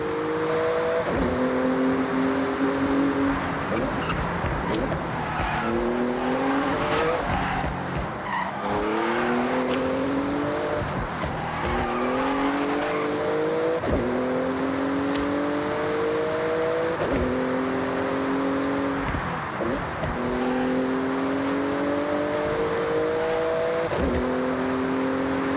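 A Porsche tears through a speed zone in Forza Horizon, engine revving hard with repeated rising gear-change sweeps and tire squeal, loud and continuous throughout with no talk.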